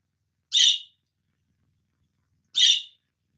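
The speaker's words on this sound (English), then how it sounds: "Hear my bird? She is off the hook this morning." A pet bird indoors gives two short, sharp high calls about two seconds apart, close and loud against silence.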